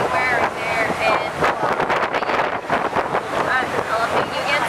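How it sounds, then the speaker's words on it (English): Strong wind blows across an island and buffets the microphone in a loud, continuous roar. Faint voices sit underneath. "It is quite windy right now"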